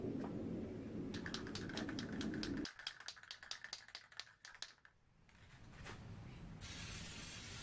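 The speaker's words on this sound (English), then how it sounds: "let's spray a bit of glue on this, stick it up" A steady aerosol glue spray hisses for a few seconds, followed by a burst of rapid clicking and a second, brighter hiss near the end.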